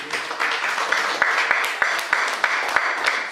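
A comedy show audience claps and applauds in a lounge, steady dense applause with a few sharper claps standing out. Scattered voices mix in.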